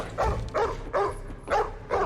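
A dog barks in a steady series of five muffled, mid-pitched woofs at even intervals, moderately near, with no talking.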